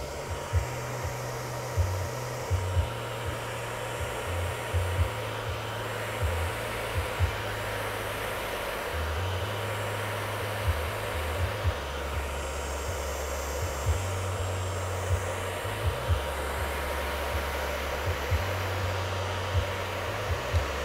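Hair dryer fitted with a finger diffuser runs close and continuously for the whole stretch, a steady airy whir over a low motor drone that shifts in pitch as it moves, with faint clicks and no talking.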